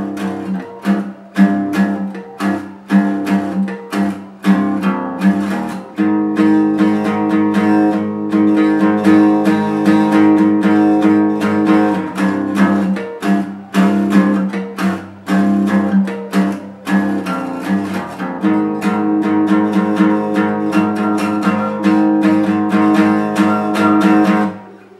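An electric guitar plays the riff from a song alone: loud, rhythmic chords and ringing notes with short, choppy breaks.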